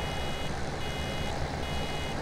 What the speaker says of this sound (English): And there comes the annoying beeping.